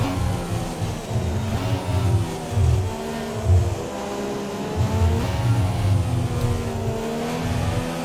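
A McLaren Honda Formula 1 car in the F1 2017 racing game at the China Grand Prix, its engine droning loud and close, rising and falling in repeated revving surges through gear changes.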